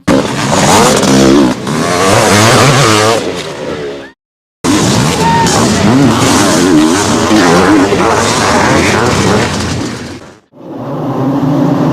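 Supercross motorcycles racing at Anaheim, including a green factory Kawasaki, engines loud and constantly revving with rising and falling whine, cutting out briefly twice, no clear speech.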